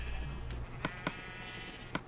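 Minecraft sheep bleat in a survival game, with a few faint, short blips over a low background hum.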